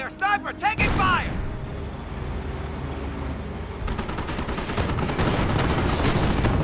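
Gunfire in the World War II strategy game Company of Heroes, set in the Normandy invasion at St. Lo: a shouted voice at the start, then a sustained rumble of distant shooting and explosions that thickens into dense bursts toward the end.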